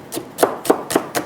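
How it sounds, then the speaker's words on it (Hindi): Five evenly spaced knife strikes on a cutting board as onion is chopped finely for masoor dal, each crisp tap close and clear, about a quarter second apart. "अब इसको बारीक चॉप करेंगे"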